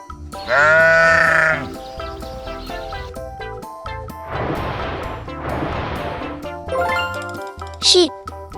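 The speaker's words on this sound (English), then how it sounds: "Sheep." A sheep bleats loudly and up close in a wavering, nasal call, followed by two broad noisy bursts and a few short higher cries near the end.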